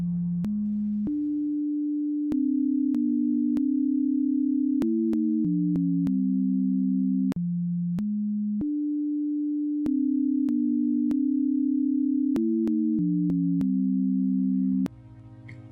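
A simple melody in the Tonus Veritatis musical system, in 4 over 1 time at 110 beats per minute, plays as pure sine-wave tones. Clean, steady held notes and short steps move in a smooth rhythmic line, alone with no voice.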